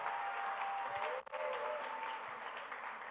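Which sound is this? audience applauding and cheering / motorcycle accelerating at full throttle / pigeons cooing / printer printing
audience applauding and cheering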